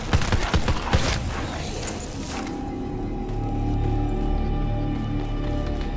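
Gunfire in Black Ops 4 Zombies: a rapid burst of sharp shots in the first couple of seconds, then a steady mechanical hum and low background rumble, with no voices.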